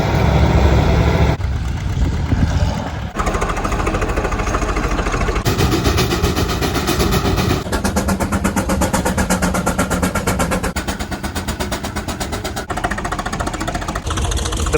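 A Steiger tractor pulls a disc in a plowing demonstration at an antique farm show, its big diesel engine thrumming loudly and continuously with a rough, pulsing knock that shifts in tone as it passes.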